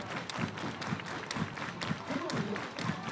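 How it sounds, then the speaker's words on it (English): A crowd at a youth baseball game claps in unison, steady rhythmic beats roughly every half second, moderately distant and mixed with light crowd murmur. "Everybody clap your hands."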